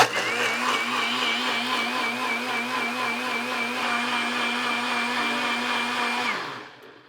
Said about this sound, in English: So I'm gonna start the blending now.